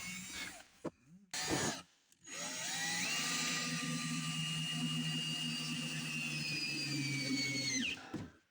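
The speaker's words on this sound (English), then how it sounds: "Then a wider drill bit up on top to allow the screw to drop in" A drill fitted with a wider bit bores a counterbore so a screw head can sit down in the hole, running as a steady, close whine for about six seconds after a few short clunks.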